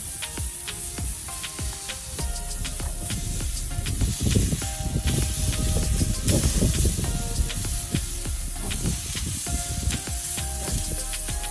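A steak sizzles loudly in a hot pan just after being flipped, a dense continuous hiss and spatter with crackling pops that swells midway, close up and without talk.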